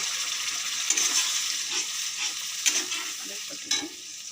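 Water is added to a sizzling mustard-poppy seed paste frying in a pan for a fish curry, a steady hissing fry with a few louder splashing bursts and stirring scrapes, no voices.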